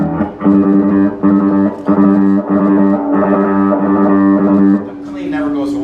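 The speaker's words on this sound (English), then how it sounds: "I'll turn the knob up and down so you can see what's happening" Gritty, distorted bass guitar notes are played in short repeated bursts, the tone growing rougher and then easing as the distortion knob is turned up and down.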